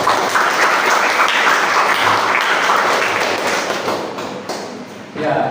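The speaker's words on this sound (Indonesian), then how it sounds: "Tepuk tangan." Audience applause and clapping in a classroom during a teaching practice session, loud and close with scattered thumps, thinning toward the end.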